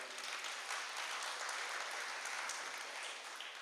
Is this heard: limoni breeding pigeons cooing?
no